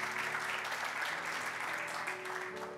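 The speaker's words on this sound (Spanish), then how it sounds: "Dale un aplauso bien fuerte." A church congregation applauds with steady, dense clapping heard fairly far off, a sustained patter with a low hum underneath.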